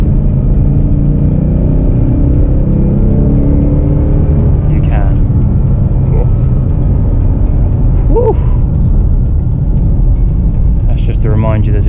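A 2017 Ford Mustang GT Fastback with a 5.0 V8 gives a loud, deep, continuous engine rumble as it revs and accelerates hard, heard close and steady throughout.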